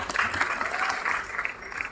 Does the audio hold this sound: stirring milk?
no